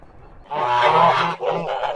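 Kholmogory geese give loud, close nasal honks, one long call followed by a shorter second burst after a brief break.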